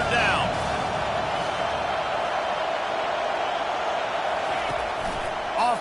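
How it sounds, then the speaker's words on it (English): Stadium crowd at a football game roaring for the defense on third down, a loud, continuous, broad wall of cheering noise that holds steady throughout. "Decibels rising as the crowd gets behind this defense on third down."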